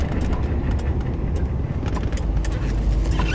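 Engine of a 1977 Cadillac Coupe de Ville revving hard, a loud, steady low rumble sustained throughout with no pause.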